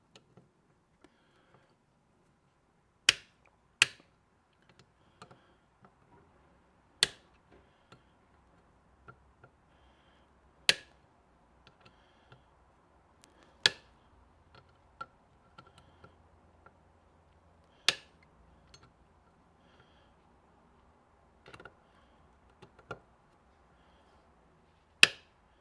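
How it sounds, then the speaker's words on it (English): A torque tool tightening a Profile Elite bicycle crank gives off sparse, sharp, isolated clicks spaced a few seconds apart over a quiet background, with faint small ticks in between. "I can now just tighten it up. And I'll hear a click"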